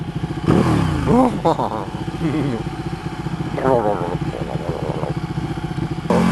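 A Ducati 1299 Panigale S motorcycle engine runs steadily throughout, with rising and falling revs swelling in a few places as a rider talks over it.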